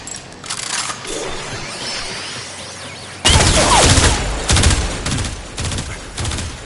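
Weapon fire rings out in the Warframe video game as targets are destroyed: sharp, dense bursts of rapid shots with shattering impacts, quieter early on, then a loud sustained barrage followed by further separate bursts.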